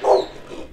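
A single dog barks at a house, one short, loud woof near the listener, then fading into quiet low rumble.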